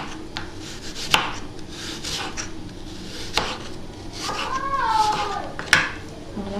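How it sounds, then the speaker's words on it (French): Knife slicing apples into thin pieces for an apple tart, a few sharp chops on a board spaced a couple of seconds apart, close, with a meow-like squeak in between. "on coupe les pommes en tranches assez fines"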